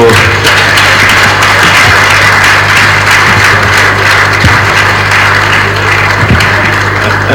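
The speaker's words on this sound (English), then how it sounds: "that clapping is not good enough" Applause from an audience at a formal event with dignitaries, a dense continuous clatter of clapping over a steady low hum, loud and unbroken for several seconds.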